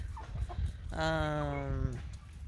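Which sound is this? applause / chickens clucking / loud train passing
chickens clucking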